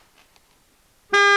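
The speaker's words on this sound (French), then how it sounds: "J'entends un klaxon." After near silence, a car horn blasts once, loud, bright and sustained, cutting in abruptly and still sounding as the moment ends.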